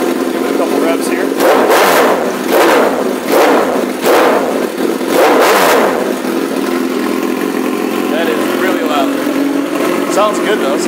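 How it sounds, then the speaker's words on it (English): A 2006 Suzuki GSX-R1000 motorcycle engine is blipped in several sharp, loud revs, about five in quick succession, each falling back, before settling into a steady idle. "Give it a couple revs here."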